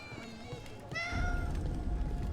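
A cat meows in the video game Dragon Age: Veilguard, one clear drawn-out meow over a low game ambience.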